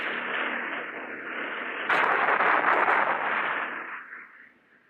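Cobra attack helicopter firing its weapons, a dense roar that swells sharply partway through with sharp bursts on top, holding loud for a couple of seconds before dying away into quieter rumble.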